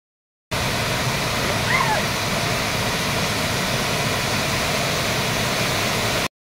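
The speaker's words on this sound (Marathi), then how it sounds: "असं सर्वीकडे हे धबधबे दिसतात, हिरवंगार, आणि त्याच्यात असं पांढरं शुभ्र वाहणारे पाणीही खूप छान वाटतं" A white waterfall pours down through green forest in the rain, a loud, steady broadband rush of water filling the whole stretch without pause.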